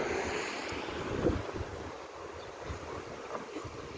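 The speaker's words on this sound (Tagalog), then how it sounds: "Dito sa malilim, mahangin." Steady wind rushes and buffets the microphone, with a broad blustery roar and faint watery wash underneath.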